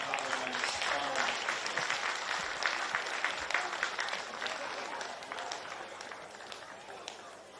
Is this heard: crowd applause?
yes